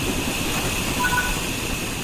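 Train in Train Sim World 3 braking toward a halt, a continuous rolling rumble with steady hiss and a faint brief squeal midway, no voices.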